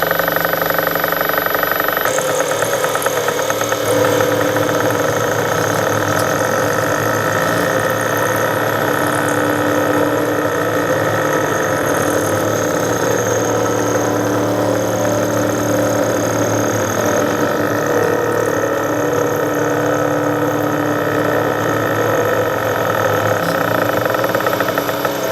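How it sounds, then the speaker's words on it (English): A seized bolt is cut out of a Wilton Bullet vise with a loud, constant grinding drone. It holds an unbroken, steady tone close up throughout, with no pauses. "The sound of the cutting changed quite a bit."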